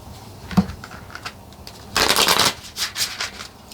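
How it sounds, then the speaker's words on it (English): Kipper fortune-telling cards shuffled and handled by hand: a soft flick near the start, then a dense burst of riffling papery slaps, followed by a few shorter card flutters, close and fairly quiet. "What if I pull some of these Kipper cards and see if we can get some more specifics?"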